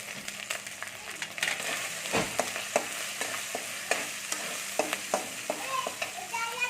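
Sliced okra and chopped green chillies frying in a pan, a steady close sizzle broken by frequent sharp spatula taps and scrapes against the pan, with no voices.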